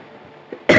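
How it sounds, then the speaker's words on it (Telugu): One sharp, loud cough bursts out at the very end after a brief quiet moment, close to the microphone. "చూసారా గైస్, దగ్గు కూడా బాగా వస్తుంది."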